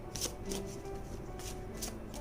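Tarot cards shuffled by hand in a quiet room, a few soft riffling bursts of card edges spaced apart, close but faint.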